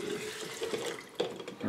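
Solvent poured from a can onto ground shellac flakes, a steady close splashing trickle of liquid with a brief louder splash near the end.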